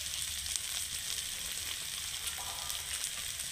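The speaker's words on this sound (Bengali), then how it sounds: "3 মিনিট এরকম করে আলুটাকে ভেজে নিলাম সুন্দর করে।" Boiled potatoes frying in a pan with a constant soft sizzle and crackle, even and unbroken throughout, with no talk.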